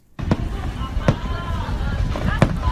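Fireworks burst in a few sharp, spaced explosions with crackling tails, heard over a steady background hum while people talk nearby.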